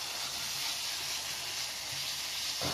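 Soft, steady sizzling of tomato sauce with sweet paprika being stirred in a frying pan, a low continuous hiss with faint stirring scrapes, ending in a small clunk.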